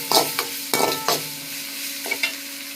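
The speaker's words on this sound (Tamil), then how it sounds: "கருவேப்பிலை போட்டுக்கலாம். 2 கொத்தமல்லி போட்டு நல்லா வதக்கலாம்." Onions, curry leaves and coriander being sautéed and stirred in a pan for a Tamil kudai milagai gravy, giving close, soft sizzling with a few sharp clinks of the spoon against the pan.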